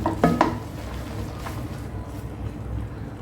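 Jute greens being gently stirred by hand in a pan, with a few soft scraping clicks early on over a steady low background hum.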